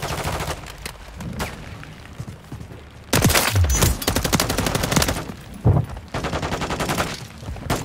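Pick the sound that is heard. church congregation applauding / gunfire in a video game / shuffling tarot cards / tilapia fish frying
gunfire in a video game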